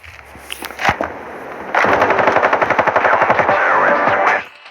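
Sustained automatic gunfire from the mobile shooter game Standoff: a few scattered shots, then a loud, rapid burst of rhythmic rounds lasting about three seconds before cutting off.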